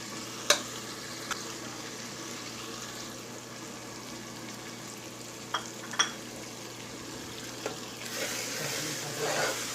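Spices and softened tomatoes frying in a pan for karela (bitter gourd) sabzi give a quiet steady sizzle, with a few sharp clicks of stirring and a louder hiss near the end.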